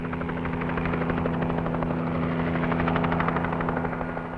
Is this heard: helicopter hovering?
yes